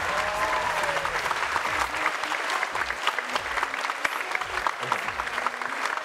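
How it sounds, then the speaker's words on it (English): Loud, sustained applause from a large crowd at a Lantern Festival cultural show, dense clapping that fills the whole stretch without a break. "a big round of applause for our MCs tonight, Kate and Billy."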